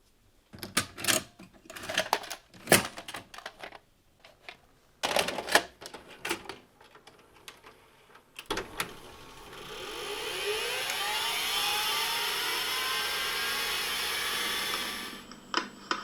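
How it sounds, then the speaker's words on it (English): A VHS tape is pushed into a VCR with a series of clunky mechanical clicks and thumps, then a steady motorized whir builds and holds for several seconds as the tape rewinds before it stops. "I'll take this tape, stick it in my VCR downstairs and rewind it"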